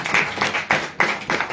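A crowd claps at an Ebiotorium business plan meeting: short, fairly even rounds of clapping that swell and dip in a quick rhythm, close and moderately loud, with no talk over it.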